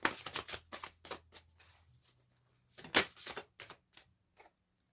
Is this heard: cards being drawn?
yes